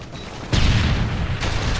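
Gunfire in a shooter video game: a sudden loud burst of dense shots kicks in about a third of the way through, sustained rapid fire with a heavy low boom, over a faint background hum.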